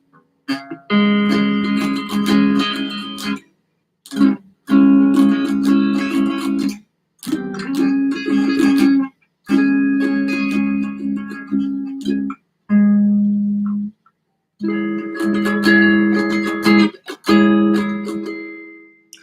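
A guitar plays a sequence of inside chords in a practice session, each chord strummed and left ringing for a second or two before sharp silent breaks as the hand shifts to the next shape; clear, close and solo, with no talking.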